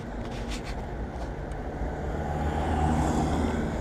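Cars drive past on a residential street in Dnipro's Livoberezhnyi-3 area, a low steady engine and tyre rumble that swells slightly toward the end, heard from the roadside without talk.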